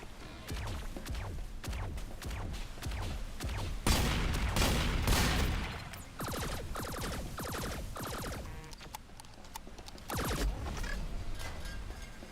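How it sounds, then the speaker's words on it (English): Electro blasts in Diffusion mod combat, a long stretch of rapid, dense crackling bursts with brief louder surges and short dips, sustained and close, with no speech. "Those electro blasts are actually pretty useful."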